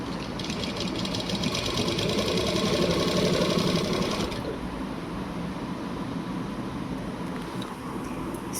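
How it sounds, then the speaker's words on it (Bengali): A sewing machine runs steadily and close while stitching a hand block printed saree, giving a continuous rapid mechanical whir with no breaks, slightly lighter in tone over its second half. "এই যে এখানে সেলাই হচ্ছে শাড়িটা। খুব সুন্দর সেলাই হচ্ছে।"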